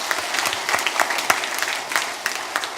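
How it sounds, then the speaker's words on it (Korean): Church congregation applauding during an Easter Sunday sermon: dense, steady clapping from many hands fills the room for a few seconds, with no talking over it. "감사의 박수 다시 한번 올리겠습니다"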